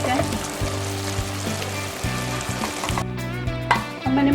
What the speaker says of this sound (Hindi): मसाला ये भून चुका है, तो अब हम इसमें सब्जियां ऐड करते हैं।